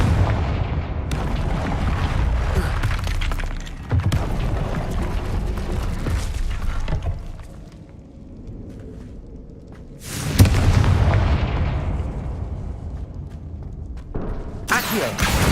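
Confringo fire spell blasts in the video game Hogwarts Legacy on PS5, heavy booming explosions that roar and fade in long rumbling decays, several bursts in a row.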